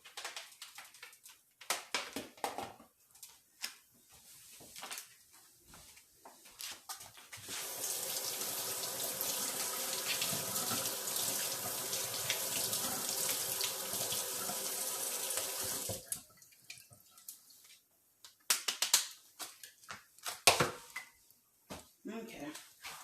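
Tap water runs into a kitchen sink while hands are washed during cooking, a steady hissing flow lasting several seconds, then it stops and a few splashes follow, with people talking before and after.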